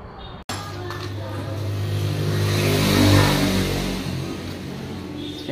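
Ford Everest WL engine revving steadily, a loud sustained mid-range drone that swells in the middle and eases off again, heard alone after a brief cut at the start.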